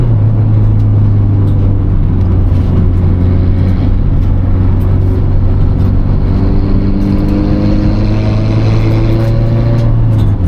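Loud, noisy car driving steadily and close, with a constant droning engine hum and a rough rumbling roar throughout, no voices.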